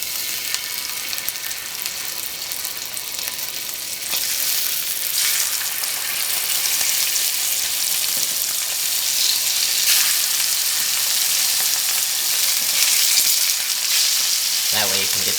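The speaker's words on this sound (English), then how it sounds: "my pan is heated up and I've got my salmon ready" Salmon fries skin side down in a heated pan, producing a loud, steady, close sizzle that crackles continuously throughout, with no voices.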